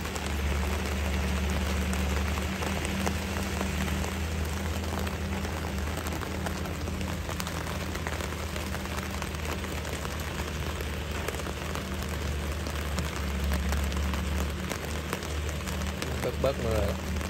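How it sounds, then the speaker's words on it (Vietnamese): Heavy rain pounds down steadily during super typhoon Noru in a flooded Mekong Delta area near a long-reach excavator, a dense continuous wash with a low rumble beneath and someone talking over it. "Bớt mưa rồi."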